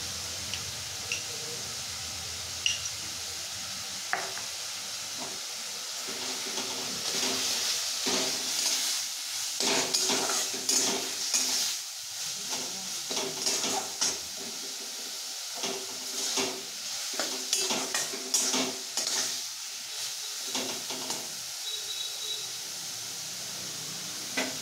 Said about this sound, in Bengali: খোস্তা ভাজা ভাজা হচ্ছে যেটা, এর মধ্যে মা অ্যাড করবে জিরে আর আদা বাটা